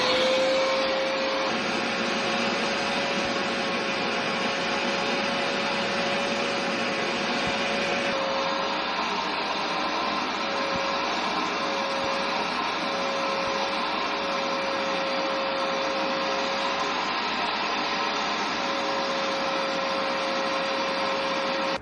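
A carpet cleaner with its hose attachment runs in a steady, loud motorized drone with a constant high whine, unbroken for the whole stretch with no talking.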